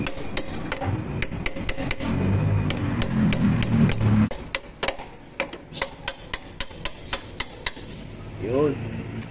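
Metal hammer striking a spacer onto the rear axle of a Honda Wave 100 motorcycle: a long series of sharp, close, evenly spaced knocks, with a speaking voice and workshop noise in the first few seconds.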